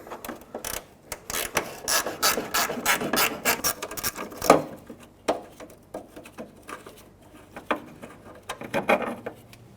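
A ratchet wrench loosens a 10mm bolt through the plastic headlight adjuster on a 2007-2016 GMC Acadia, with quick, close clicking bursts that pause and restart, then slower, sparser ratcheting near the end.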